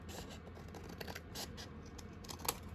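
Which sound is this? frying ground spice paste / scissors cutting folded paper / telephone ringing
scissors cutting folded paper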